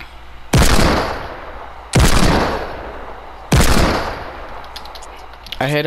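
Three loud, booming Desert Eagle shots in the Fortnite video game, evenly spaced about a second and a half apart, each with a sharp crack and a long fading tail.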